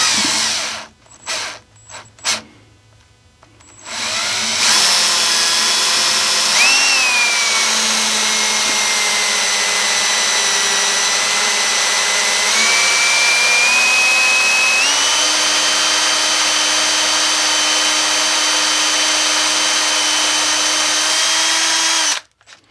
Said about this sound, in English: Let's cut this first hole.